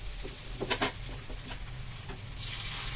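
Raw banana slices fry crisp in hot oil in a pan, a steady close sizzle with bursts of popping and spattering and a few stirring scrapes.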